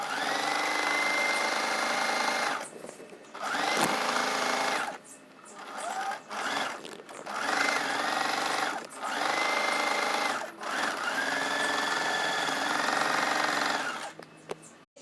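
Singer sewing machine fitted with a blind stitch foot hemming trousers, running in several steady loud bursts separated by short pauses, with a whirring motor tone throughout and no talking.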